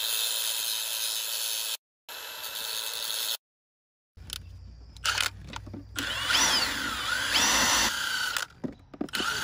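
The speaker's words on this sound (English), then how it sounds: "So let me grind that real quick." A power grinder works on a copper battery terminal, a close, harsh whirring that starts and stops in short bursts separated by brief silences, then continues in a rougher, varying stretch, with no one talking.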